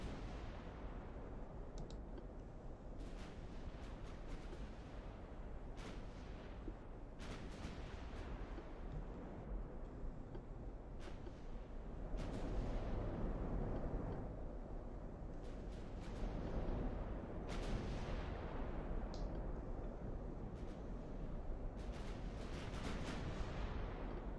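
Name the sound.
heavy cruisers' naval gunfire in video game Ultimate Admiral: Dreadnoughts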